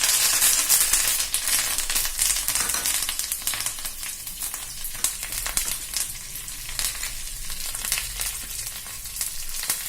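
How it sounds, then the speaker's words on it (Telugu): Spices and curry leaves crackle and sizzle in hot oil while being fried for a tempering, a continuous, close, bright frying hiss with scattered pops and stirring that stays loud throughout. "పోపు దినుసులు వేగుతున్నాయి కదా"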